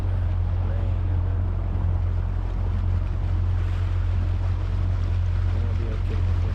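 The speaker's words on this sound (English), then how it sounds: "And then we got our trolling motor." A fishing boat on a trolling motor moves along a river, with a steady low motor hum under constant wind and water noise and some faint talk.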